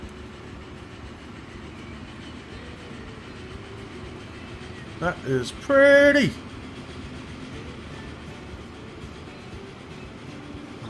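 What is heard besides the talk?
train riding on rails in video game Transport Fever 2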